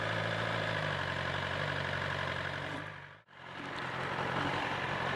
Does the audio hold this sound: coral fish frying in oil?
no